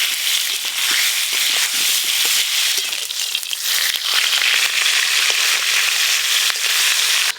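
Hilsa fish heads coated in salt and turmeric frying in hot oil, a dense, loud, continuous sizzle and crackle with sharp pops scattered throughout, no voices.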